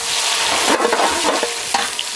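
Chopped onions fry in ghee and cold-pressed coconut oil with cinnamon, cloves and cardamom, giving a loud, steady sizzle broken by a few scraping stirs close by.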